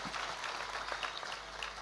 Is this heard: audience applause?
yes